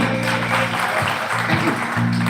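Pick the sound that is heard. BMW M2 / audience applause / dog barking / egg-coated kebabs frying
audience applause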